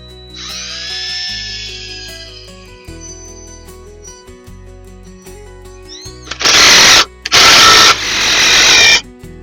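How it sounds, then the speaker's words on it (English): A power drill whirs in several short bursts, loud and close, drilling pilot holes in clamped wood for screws, after a stretch of quieter whining machine tones. "I'm going to go ahead and drill out the holes"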